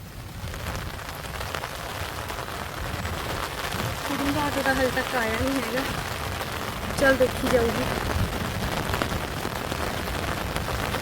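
First rain of the Sawan month falling steadily outdoors in Punjab, a constant soft hiss of drops on surfaces, while people talk throughout over it.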